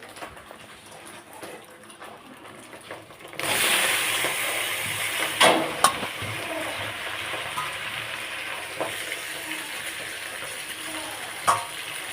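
Pasta is tipped into a hot pan and bursts into a loud, steady sizzle of frying, with occasional sharp scrapes from stirring.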